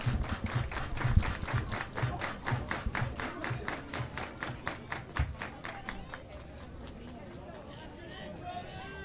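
A baseball crowd claps in unison at a summer-league playoff game, a quick even rhythm of about two claps per second that fades out near the end, with crowd chatter underneath.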